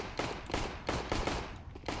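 Rapid bursts of automatic gunfire from a video game firefight crackle in clustered volleys, loud and near, with brief gaps between strings of shots.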